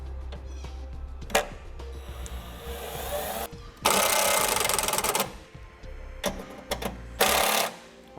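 A power driver sinks self-tapping screws to mount a bracket for a towed-vehicle battery charge line kit: loud whirring bursts of a few seconds each, with a steady hum and short gaps between them, close up and without talk.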